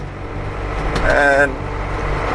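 Cab noise inside a truck on the move: a steady low road and engine rumble under a voice, which speaks briefly in the middle.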